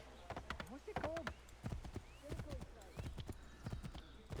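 Horse hooves clip-clop in Assassin's Creed III Remastered, a steady run of hoofbeats at close range, with someone talking over them.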